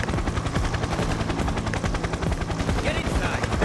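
Helicopter in the heist video game Payday 2, a continuous rapid rotor chop close and loud, mixed with bursts of gunfire in the background.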